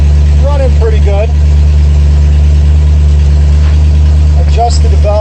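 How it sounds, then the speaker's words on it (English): A car engine idles steadily and loudly up close after a valve adjustment, a constant low rumble running throughout while someone talks briefly near the start and again at the end. "Probably turn the idling down just a touch more"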